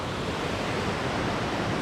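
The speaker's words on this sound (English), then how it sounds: "So I've worked my way down below this waterfall," A waterfall on a remote mountain stream in central North Georgia roars with steady, dense rushing water, close and unbroken.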